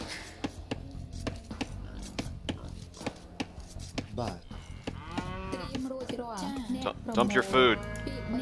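Cattle moo repeatedly in a strategy video game, drawn-out lowing calls rising near the end, mixed with regular rhythmic chopping ticks from gameplay.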